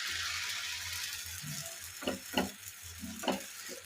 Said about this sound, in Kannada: ಈಗ ಹೋಳಿಗೆ ಬೇಯ್ತಿದೆ